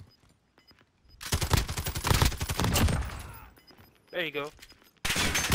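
Bursts of rapid automatic gunfire in the Call of Duty: Warzone video game, loud and dense for a few seconds, then a brief pause and another volley, with a player speaking briefly over it.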